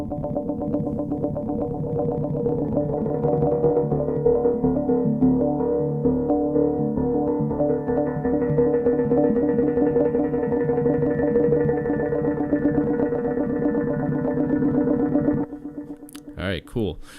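Orbit synthesizer plugin running the Droploid preset from its Pulse bank, a dense sustained harmonic synth tone with shifting overtones holding steadily, then cutting off abruptly near the end into a few brief bursts.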